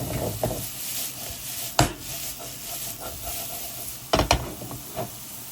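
Rice frying and being tossed in oil in a pan for Nigerian fried rice, a steady sizzle broken by a few sharp scraping stirs and clatters of the utensil against the pan.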